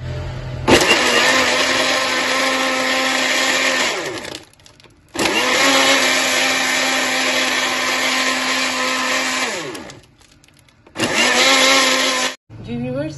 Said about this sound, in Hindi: अब हम इस सारे मिक्सचर को अच्छे से ब्लेंड कर लेते हैं